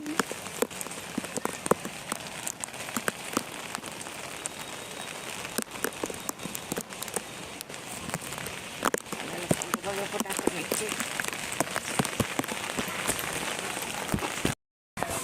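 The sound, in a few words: light rain falling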